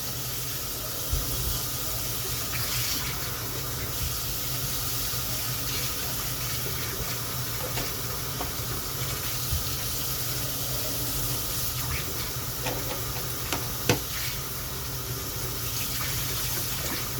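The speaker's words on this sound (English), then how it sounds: "As soon as I started washing these lids, I got water on the phone" Tap water runs steadily into a kitchen sink while lids are washed, a continuous broadband hiss with a few faint clinks and knocks, no talking.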